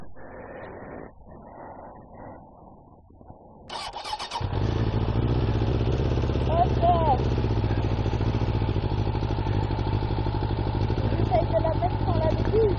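A motorcycle engine is kicked over and catches, then settles into a loud, steady, close running beat, with people talking over it before and after the start.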